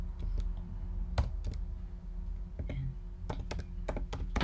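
A Maven command is typed on a computer keyboard: sparse, quiet key clicks in small irregular bursts against a low background hum.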